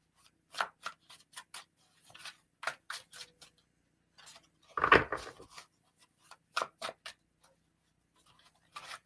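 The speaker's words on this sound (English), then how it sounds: "So I'm kind of just shuffling." Tarot cards are shuffled by hand in a quiet room, a series of short crisp taps and riffles in irregular bursts, with one louder rustle midway.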